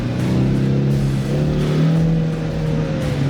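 Engine of a 2024 Ford Mustang GT working steadily through slalom turns, a continuous loud, near drone with slight rises and falls in pitch as it pushes through the corners.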